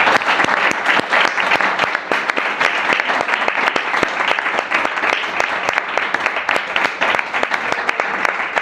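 Audience applause at a meeting with Freedom Flotilla activists in Ronda, loud dense clapping from a crowd sustained throughout, close and steady.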